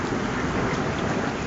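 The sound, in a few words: thunderstorm with rain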